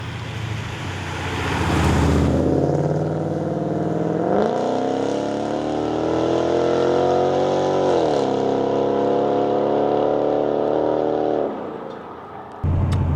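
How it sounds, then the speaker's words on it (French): A Ford Mustang GT/CS V8 engine revving and pulling through gears, a loud deep burbling roar rising and settling over several seconds, then easing to a lower rumble near the end. "t'as le son du V8"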